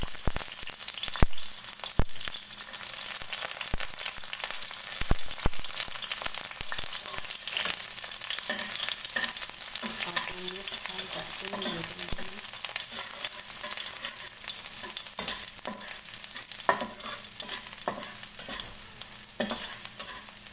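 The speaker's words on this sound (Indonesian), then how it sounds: "Bunda tuang secukupnya minyak. Bunda masukin bawang putihnya." Garlic frying in hot oil in a nonstick pan, a steady sizzle running throughout with occasional stirring clatter and soft scrapes close by, no voices.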